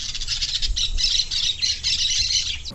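A parrot squawks in a rapid run of harsh, shrill bursts, loud and close, the calls repeating almost without a break before cutting off abruptly.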